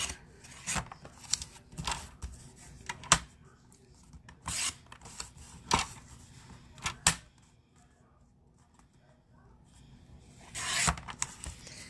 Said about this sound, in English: So if I cut out this fall piece and just get it just close to that edge and basically cut it off all the way around